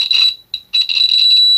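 A multimeter continuity buzzer beeps loudly as the probes touch an inductor, giving a high steady tone that breaks off briefly and then sounds again, with no one speaking.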